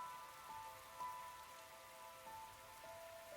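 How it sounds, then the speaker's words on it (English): Steady rain patters across surfaces in a video game, a continuous even hiss with faint tonal game sounds layered above it and no voices. "This rain stuff is nothing but trouble."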